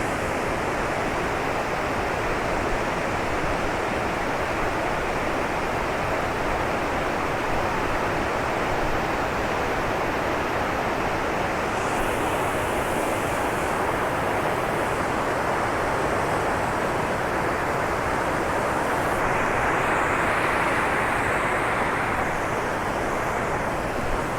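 The Rayap waterfall in Blangjrat, Nisam Antara, Aceh Utara, Indonesia roars in a dense, unbroken rush of falling water, loud and constant throughout.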